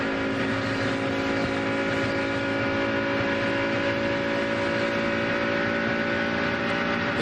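Kevin Harvick's ailing No. 29 NASCAR Winston Cup race car engine at the Pepsi 400, Michigan International Speedway, a sustained rough droning roar with steady whining tones and no break or talk.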